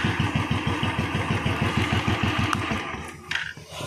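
A Royal Enfield Bullet motorcycle engine runs at idle after starting, a close, loud, steady thumping beat with rapid even pulses that fade out near the end as the engine is switched off.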